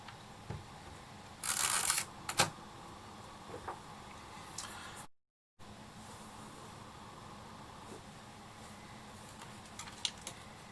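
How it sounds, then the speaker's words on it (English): Quiet room tone from an Exa 11a camera handled close up, with a short burst of mechanical clicking and a sharp click just after as the shutter is released, then near silence with faint handling taps. "Move it to this position and I can release the shutter."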